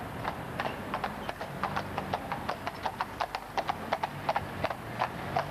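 Steady clip-clop of two Polish horses' hooves on a hard London road, a brisk even rhythm close by, with no talking.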